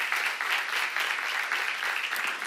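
A church congregation at a Bible seminar breaks into steady, dense applause, a continuous wash of many hands clapping at moderate distance with no voices above it.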